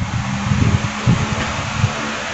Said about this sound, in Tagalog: Yan, kumana na electric fan.